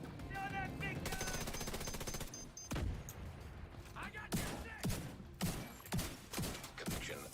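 Video game shooter gunfire erupts in rapid automatic bursts and single cracks, mixed with electronic interface tones and game sounds, with talk in the background at times.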